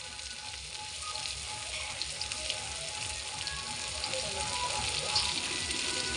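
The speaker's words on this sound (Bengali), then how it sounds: "এবার কড়ার মধ্যে দিয়ে দিচ্ছি পেঁয়াজ কুচি আর শুকনো লঙ্কা।" Chopped onion and dried chillies fry in hot oil in a wok, making a continuous dense crackling sizzle that stays fairly loud and steady from start to finish.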